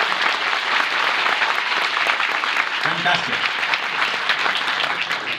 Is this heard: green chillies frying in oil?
no